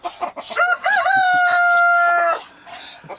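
A rooster on a farm lets out one loud, close crow with a long sustained final note, preceded by a few short calls.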